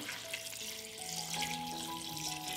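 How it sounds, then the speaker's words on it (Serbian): Water runs steadily from a tap into a pot, a soft continuous rush with a faint rising tone as the pot fills. "Napunit ću šerpu sa vodom."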